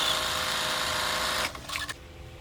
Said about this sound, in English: We'll start creating the bottoms by placing the two front curves together and sewing to attach.